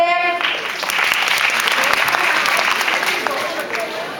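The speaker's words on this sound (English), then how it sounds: "Great applause for them." Audience at a stage competition final applauds, a dense, loud burst of clapping that rises quickly and holds steady before easing slightly toward the end.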